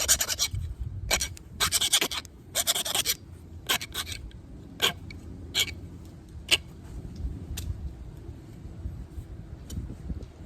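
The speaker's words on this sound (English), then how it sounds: "I need to file this a little bit narrower." Hand file rasping across a shoe part (Speed Goat paleo build), short bursts of strokes early on, then sparse isolated scrapes, close and fairly loud with no talk.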